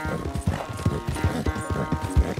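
Horse hooves clip-clop at a steady walking rhythm in the video game Red Dead Redemption 2, close and moderately soft against quiet ambient game sound.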